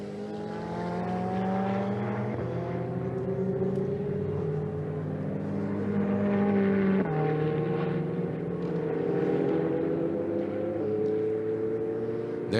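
Ferrari Challenge race cars at the Nürburgring drone past with layered, rising and falling engine tones as they shift gears, a steady moderate-distance roar with no voices.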